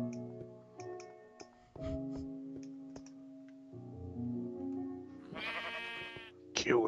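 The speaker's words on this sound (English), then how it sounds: "Kill the sheep." Sheep bleating in the game Minecraft, a few nasal synthetic bleats near the end of the clip, mixed with clicking from gameplay and a steady droning hum throughout.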